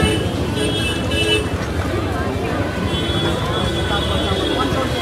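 Dense street traffic rumbles through a crowded electronics market in Mumbai, with engines and intermittent car horns blending into a loud, continuous urban din and indistinct voices mixed in.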